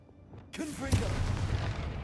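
A Confringo blasting spell goes off in Hogwarts Legacy: a voice calls out just before a sudden loud boom, followed by a sustained rumbling, crackling blast that stays strong to the end.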